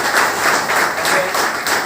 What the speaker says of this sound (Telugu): మరి మేడం ఒకసారి బిగ్ రౌండ్ ఆఫ్ అప్లాజ్